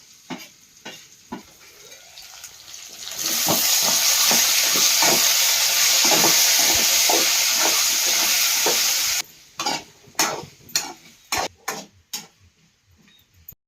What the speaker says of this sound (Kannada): ನೋಡ್ರಿ ಇವಾಗ ಅಂತೂ ಬಟಾಟಿ ಮಸ್ತ್ ಫ್ರೈ ಆಗ್ಯಾವು